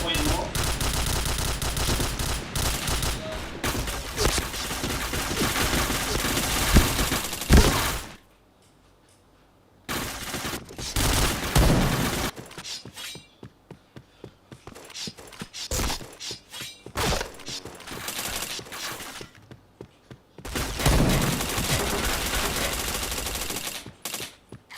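Loud bursts of automatic gunfire and fast fusillades fill a shooter video game, broken by a few short quiet gaps. Scattered single shots fall in between, and a voice talks at times.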